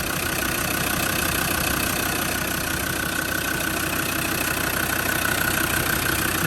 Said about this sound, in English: there we have just a straightforward Defender 90 TD5 engine